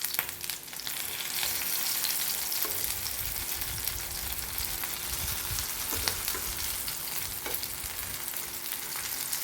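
Kingfish frying steadily in hot oil in a pan, with a continuous close sizzle and crackle and occasional sharper pops, no voices.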